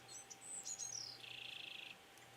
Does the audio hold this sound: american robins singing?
yes